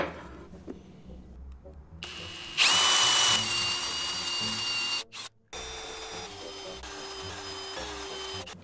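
Power drill with a plug cutter boring small walnut wood plugs, a loud close whining burst that holds steady for several seconds, briefly drops out, then resumes with a lower sustained drone.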